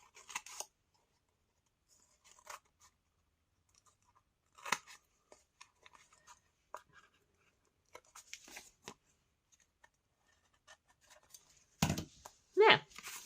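Scissors snip paper for a Christmas bauble decoration in a series of short, close cuts separated by pauses, ending with louder rustling and handling.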